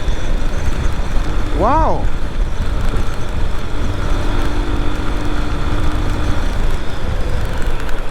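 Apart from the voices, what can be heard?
Lifan KPT200 motorcycle riding in sixth gear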